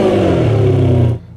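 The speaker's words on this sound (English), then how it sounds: "the V12 burbles into life" Ferrari 612 Scaglietti V12 catching and settling into a loud, deep burbling idle close by, rich low rumble held steady before cutting off abruptly near the end.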